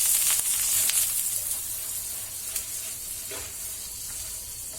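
Split pav bread rolls fry in butter or ghee in a hot pan, giving a continuous close sizzle with brief scraping touches as they are moved, steady and unbroken with no voices.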